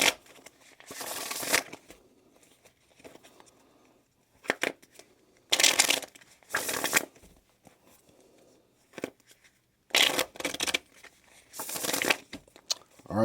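Alice in Wonderland tarot deck being shuffled in repeated bursts, quick riffling card flutters separated by short quiet pauses, close and crisp with no talking.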